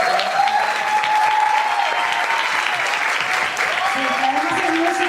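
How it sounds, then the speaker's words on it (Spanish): An audience applauding at a talk on anti-racist transfeminism, dense sustained clapping from a room of people, with voices audible underneath throughout. "así que les pido un aplauso"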